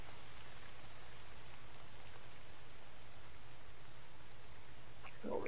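Rainfall in the survival video game The Infected makes a dense, steady hiss of drops that stays even and loud from start to finish, with no speech.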